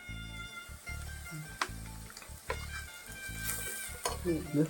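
Onions and Kashmiri chili powder sizzling in a pan, with the hiss broken up by repeated stirring scrapes and some clinks of a spoon against the metal, close by.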